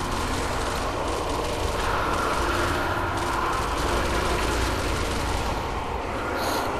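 Gunfire in the video game Sniper Elite, in a village setting with zombies: a dense, continuous roar of shots and blasts, loud and unbroken throughout, with no talk.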